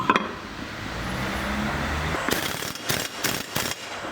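Wheel nuts being tightened on a 1.3 CDTI Opel Corsa in a workshop: a few short, loud bursts of a rattling impact wrench after a steady background hum, clustered near the end.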